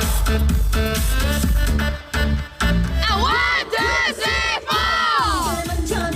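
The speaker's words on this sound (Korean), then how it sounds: "여러분들 중간 함성 소리 한 번 주셔야죠" A loud festival concert crowd roars and shouts together, with bursts of music or singing rising over the continuous cheering.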